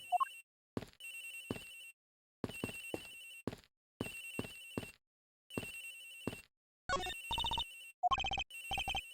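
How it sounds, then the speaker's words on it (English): A phone rings in the Ace Attorney Investigations video game, a repeated electronic trill in regular bursts separated by brief silences, joined near the end by shorter game blips. "Agent's phone! It's ringing somewhere, sir!"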